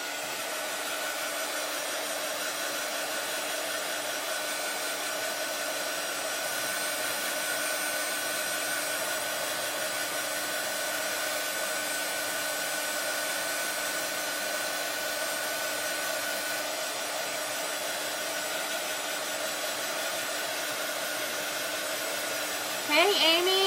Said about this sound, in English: but I'm gonna dry this real quick.